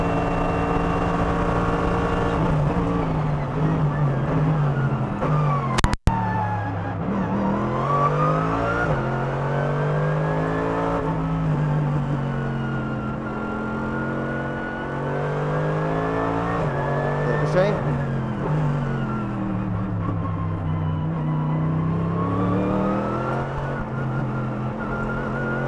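Mercedes-AMG GT3 race car accelerating on the Nordschleife, heard from onboard with a loud, continuous engine note that climbs through the gears with shift breaks, a sharp bang near the start, and a driver talking over the noise.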